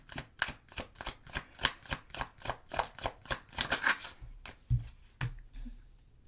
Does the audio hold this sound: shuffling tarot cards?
yes